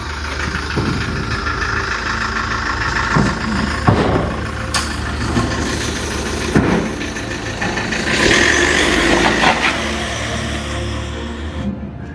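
A vehicle engine runs steadily after being started, a loud, close rumble with occasional knocks and clatters over the continuous drone.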